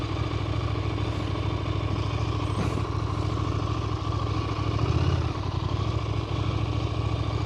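A 2024 KTM 990 Duke motorcycle idles steadily up close at a stop on a bridge, its low engine rumble continuous and even throughout, with no speech.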